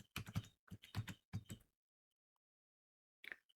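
Someone types an email address on a computer keyboard: close, quick clusters of key presses, a pause of near silence, then a short final burst of keystrokes.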